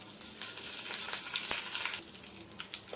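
Spices, fennel, cinnamon and dried chillies frying in hot oil in a pan on a stove while making chicken gravy, a steady broadband sizzle with crackling pops, close and fairly quiet, with no talking.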